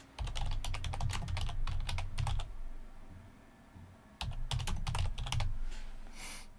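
Quick, close bursts of typing on a computer keyboard while entering a request into Copilot in Word, two rapid runs of key clicks separated by a short pause, with no talking.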